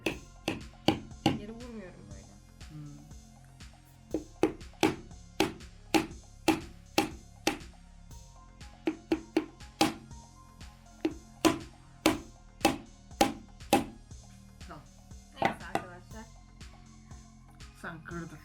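Sharp, hollow knocks repeat in steady runs, a hard object striking a coconut shell again and again, close by with brief pauses between bursts.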